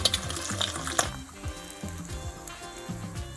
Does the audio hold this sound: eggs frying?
yes